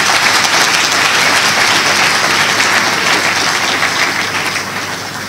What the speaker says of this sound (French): Merci d'applaudir pour cette jeunesse qui ne s'est pas résignée.